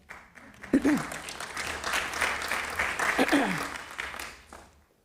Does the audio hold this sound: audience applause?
yes